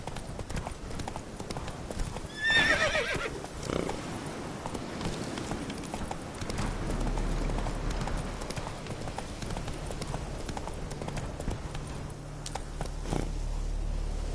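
Hooves of Roach, a horse in a video game, clip-clopping at a steady trot, moderately near and somewhat faint, with a brief whinny early on and a low rumble underneath.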